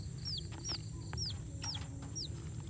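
A live chick used as bait in a trap cage chirps five or six times, each call a short, high, falling peep spaced roughly half a second apart, over a steady low rural background hum, with no one speaking.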